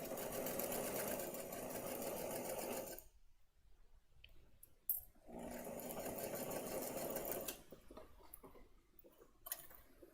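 Sewing machine stitching patchwork fabric pieces, running in two long steady bursts with a brief stop between them and lighter clicking near the end, at moderate level with no talk.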